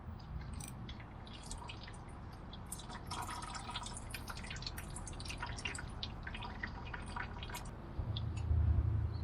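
Brake fluid dripping from a Mercedes Sprinter brake line during bleeding, quick scattered drips and tiny splashes ticking over a faint steady background hiss, with a low hum swelling near the end.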